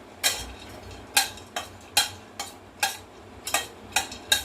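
Dry fruits roasting in ghee in a kadhai for a mango ladoo, stirred with a spatula that scrapes the pan in about nine crisp, evenly spaced strokes over a low sizzle.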